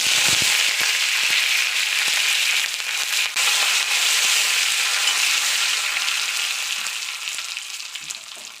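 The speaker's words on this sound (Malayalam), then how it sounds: "ഒരു ചീനച്ചട്ടി അടുപ്പിലേക്ക് വെച്ച് കുറച്ച് വെളിച്ചെണ്ണ ഒഴിച്ച് അതിലോട്ടേക്ക് ഒരു ടീസ്പൂൺ കടുക് ഇടുക" Mustard seeds, curry leaves and a dried chilli sizzle in hot coconut oil in a pan, a dense, loud, continuous crackling and spitting that thins slightly toward the end.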